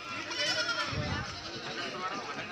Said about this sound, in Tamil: இது வெள்ளாட்டம் கிடாய்கள்,